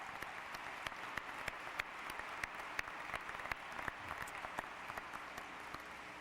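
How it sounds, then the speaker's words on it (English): Faint, distant audience applause at a high school graduation ceremony, a steady patter of many hands with a few sharper individual claps standing out, heard from far back in a large hall. "Please join me in giving these wonderful citizens a round of applause."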